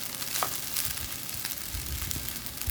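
Egg frying with prawn, corn and carrot fried rice in a pan, a soft steady close sizzle with faint crackles and light stirring.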